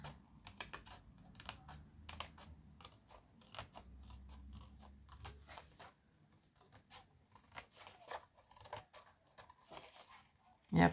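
Scissors cutting paper around an egg shape, a string of quiet close snips and crisp clicks in an irregular rhythm, with soft rustling between cuts.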